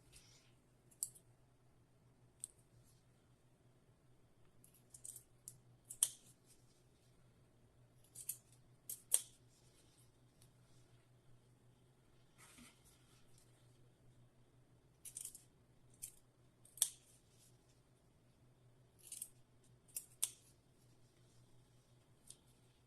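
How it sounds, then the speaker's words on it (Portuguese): Scissors cut through a marked milk carton being prepared for sewing a toiletry bag, giving quiet, irregular crisp snips and clicks with pauses between cuts, heard alone. "Agora com a tesoura."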